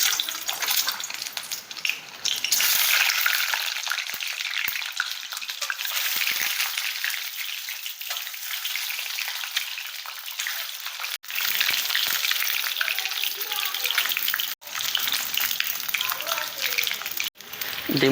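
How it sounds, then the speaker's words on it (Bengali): Eggs frying in hot mustard oil in a wok make a loud, steady, crackling sizzle that fills the whole stretch, with brief breaks and a few spatters, close by. "তেল গরম হয়ে গেছে, একে একে ডিমগুলো ভাজার জন্য দিয়ে দেব।"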